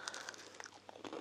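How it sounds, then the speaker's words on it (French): Someone bites into crispy breaded air-fried cauliflower, a quick run of faint close crunches and crackles with no talk. "Vous écoutez ce bruit croustillant?"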